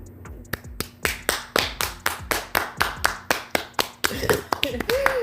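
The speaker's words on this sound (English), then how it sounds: "I don't have my applause machine, so I have to clap" A single person claps their hands in an even, steady rhythm, about a dozen sharp, close claps in a row, with a voice coming in near the end.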